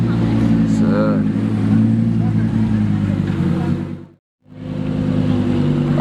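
Loud engine drone of a Lamborghini Aventador S driving past, steady and close with a brief sharp dropout near the end, while excited voices talk over it.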